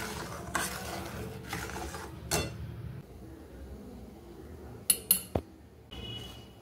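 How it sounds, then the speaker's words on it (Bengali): Sugar is stirred into a grape pudding mixture with a spoon, giving a few scraping strokes against the pot, then a brief cluster of sharp clinks and another soft scrape. "ভালো করে মিশিয়ে নিচ্ছি চিনিটাকে দেওয়ার পরে।"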